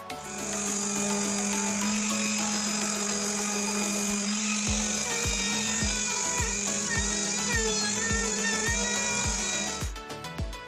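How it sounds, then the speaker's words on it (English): Power sander working over routed wooden pieces with rounded-off edges, a steady high whine running almost continuously with a series of short rhythmic knocks in the second half as the tool bears on the wood. "And sanding away, I did go."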